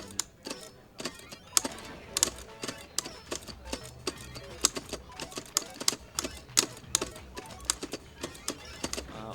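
Arcade buttons and a joystick clacked rapidly during a Tetris The Grand Master speedrun, a close, sharp series of irregular clicks and taps in quick bursts with no voices.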